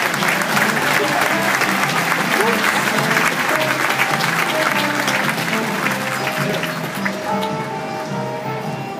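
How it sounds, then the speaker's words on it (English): Hearty audience applause greets a team of Clydesdale mares in the show ring at the Wisconsin State Fair, loud and sustained before tapering slightly at the end. "Would you give all of our team of mares a nice round of applause?"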